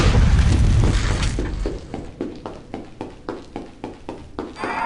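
A Depulso spell blast from the Harry Potter and the Prisoner of Azkaban video game opens with a loud booming burst, then breaks into a string of rhythmic, softer thumping pulses.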